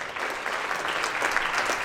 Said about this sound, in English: Would you please give Mr. Ken Millard a big round of applause?